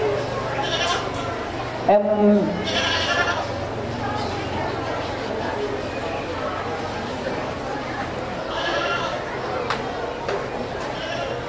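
Meat goats bleat at a county fair goat show, with one clear bleat standing out over steady crowd chatter while an announcer talks over the public address throughout.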